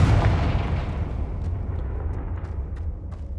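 Confringo blasting spell going off in the Hogwarts Legacy video game: a loud booming burst at the start that rolls into a long, rumbling decay with faint crackling debris trailing off.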